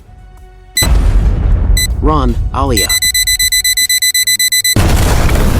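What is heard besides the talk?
robot car alarm blaring, then powerful blast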